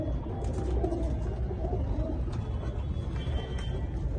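Low, soft cooing of pigeons in a loft, including a male Malwai pigeon, murmurs over a steady background rumble, with faint higher chirps now and then.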